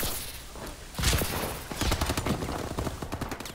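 Rapid automatic gunfire from Call of Duty: Advanced Warfare multiplayer rattles in dense bursts, loud and close, with music playing beneath.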